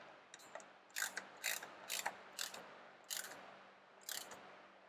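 A bronze nut on a wooden boat keel bolt is tightened with a ratcheting wrench, making a series of close, crisp clicking bursts in a steady rhythm over faint background hum.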